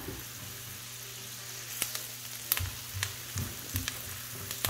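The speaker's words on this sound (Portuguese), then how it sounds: "Cebola deu uma refogada, ó. Tá douradinha." Onion sautéing until golden in a pan for a quiche, a steady close sizzle with occasional scraping and clinking of a utensil stirring, with no voices.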